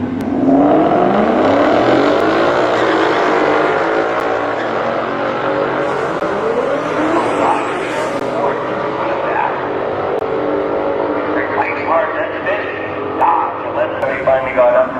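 A Ford Mustang 5.0 and a Dodge Scat Pack launch and race on a drag strip or closed course, loud engines roaring and accelerating close by before the sound recedes, with voices under it.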